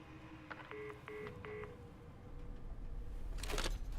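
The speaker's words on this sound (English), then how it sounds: "Now this time he actually puts the effort into hanging up the phone." In the video game Alan Wake 2, a telephone handset is set down and hung up; soft tone-like beeps come first, followed by a sharp clattering clunk near the end, all fairly quiet.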